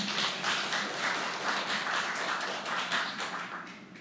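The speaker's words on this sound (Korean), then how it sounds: "이럴 때는 박수 한번 치는 거예요" A church congregation claps together during a Sunday worship service, with a dense, steady burst of many hands at moderate volume that tapers slightly toward the end.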